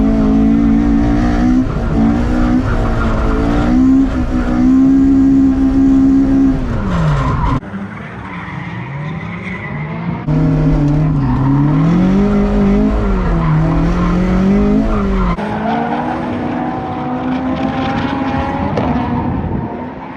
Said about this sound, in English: This is his first time driving the 20-valve swapped car in the dry at Spirit